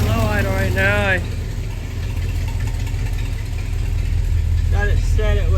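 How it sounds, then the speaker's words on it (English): A small-block Chevy 350 V8 idles very low at roughly 700 rpm, a deep steady rumble close up with someone talking over it at the start and end. "So here I've got a really low idle right now."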